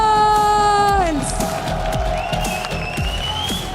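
Esports fans at a World Cup match in Paris cheer for Twisted Minds, a roaring crowd of whoops, shouts and clapping swelling in a large arena as a sustained tone fades out at the start.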